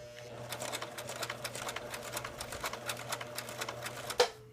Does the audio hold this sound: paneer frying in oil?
no